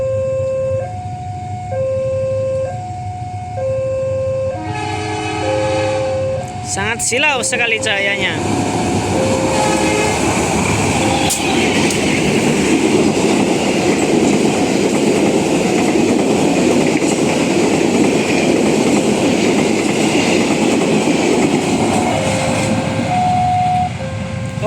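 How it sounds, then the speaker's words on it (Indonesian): Level-crossing warning bells ding in a steady rhythm as the Sawunggali passenger train roars past with rattling, clattering wheels; a person speaks briefly early on. "kereta api Sawunggali melintas dan masih sama ya"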